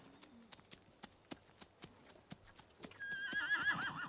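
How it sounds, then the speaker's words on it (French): Cartoon horse hooves clip-clopping in a steady, evenly spaced rhythm, followed by a loud, close whinnying neigh at the end, with no talking. "Tu l'entends hennir?"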